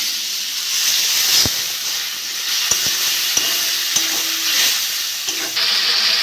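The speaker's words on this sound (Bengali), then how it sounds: "মশলাটা কষে নেবো, আমি একটু জল দিয়ে দেবো।" Masala for a potato and pangas fish curry sizzles and hisses loudly in a pan after water is added, with steady steamy crackle and a few sharp clinks of a spoon stirring against the pot.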